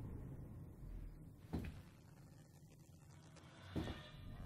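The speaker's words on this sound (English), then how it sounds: "Door, you need to stop closing and opening behind me" A door in the horror game Syndrome opening and closing, heard as two separate faint thuds about two seconds apart, one just past the midpoint and one near the end, over a low ambient hum with no talking.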